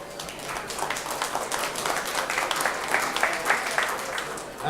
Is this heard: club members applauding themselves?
yes